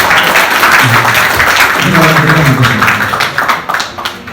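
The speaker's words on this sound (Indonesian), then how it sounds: "tepuk tangan buat teman kalian" Audience clapping for a classmate at a talk with a company founder, a brief burst of applause with some speech-like voices mixed in, fading toward the end.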